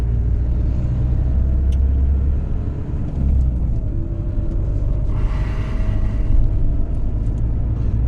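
A car accelerates along a road with a steady, heavy engine rumble and road noise heard from inside, continuous and moderately loud, with faint higher noises passing briefly.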